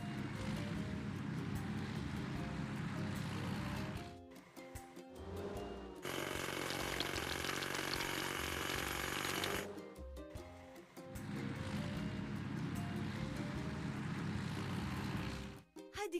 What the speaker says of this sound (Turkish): Hidrolik çekiç.